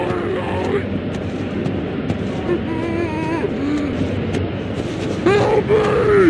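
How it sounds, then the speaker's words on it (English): Reversed-audio zombie moans from the video game Half-Life 2 form a dense, murky wash of warbling groans and wavering vocal tones that rise and fall continuously, with a louder moan near the end. "In Half-Life 2, the zombie moan sounds are pretty convincing, but it turns out what you're hearing is actually reversed audio."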